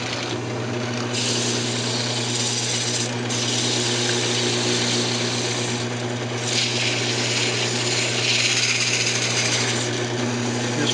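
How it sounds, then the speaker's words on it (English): A wooden Christmas ornament spins on a woodturning lathe while sandpaper works it through several grits, giving a steady, continuous motor hum with a low drone and an even rasping hiss throughout. "I'm going to go ahead and sand it up and then put a little bit of detail on it"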